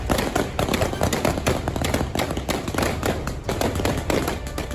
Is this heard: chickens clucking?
no